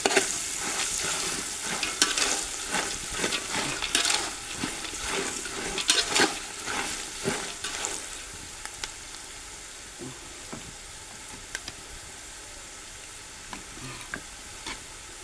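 Poha chivda being stirred while it fries in a pan for Diwali, with scraping stir strokes over a steady sizzle that is busier in the first half and then quieter with scattered clicks, no talking.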